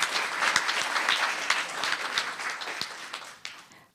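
Applause at a Los Gatos town council meeting in a council chamber, a steady wash of many hands clapping that tapers off near the end, with a few louder individual claps standing out.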